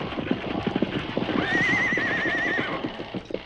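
Runaway horses being brought to a halt, rapid clip-clop of hooves close by with a loud drawn-out neigh rising over the hoofbeats midway, the trotting thinning toward the end.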